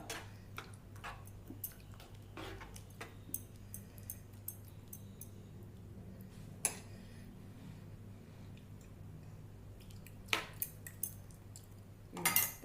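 Cauliflower kurma stirred in a pot and then covered, heard as faint, scattered metallic clinks and taps of a utensil in a quiet kitchen, with a louder clatter of the lid at the end.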